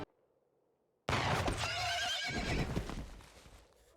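A horse in a Firefly TV episode breaks into a loud, sudden whinny after a quiet moment, with shaky neighing and some hoof and action noise that gradually fades.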